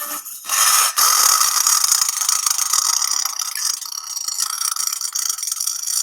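Chunks of dry ice rattle and skitter inside a bowl standing in for a punch bowl, a dense, loud, continuous buzzing clatter with a hissing edge that runs steadily with no one speaking.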